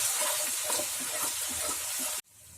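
Onions and ginger-garlic paste sauté in a pan, giving a loud, busy sizzle and crackle with stirring scrapes that stops abruptly near the end, leaving quiet hiss.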